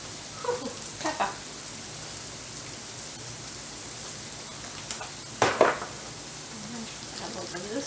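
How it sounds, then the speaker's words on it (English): Bacon sizzles steadily in a pan with onions, a constant close crackling hiss interrupted by a few louder spatters and utensil clinks, with no talking. "My bacon's a-cooking."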